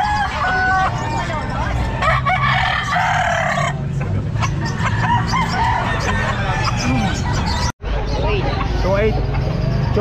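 A young bull stag rooster crows repeatedly at a busy pet market, its calls rising over constant crowd chatter and nearby clucking fowl.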